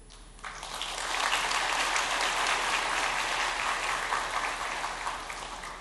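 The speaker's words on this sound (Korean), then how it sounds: "박수로 환영하겠습니다" A church congregation breaks into warm applause of welcome during a Sunday worship service, rising quickly and holding as an even, full round of clapping before easing off.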